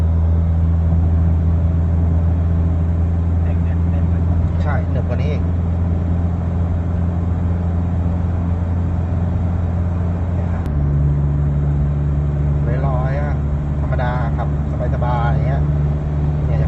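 An Isuzu All New D-Max 1.9 pickup from 2020 cruising at high speed, its steady engine drone and road rumble filling the cabin, with a brief shift in tone partway through and people talking over it.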